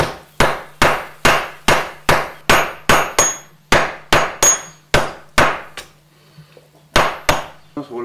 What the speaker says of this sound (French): Ça vaut le coup de passer au marteau-pilon.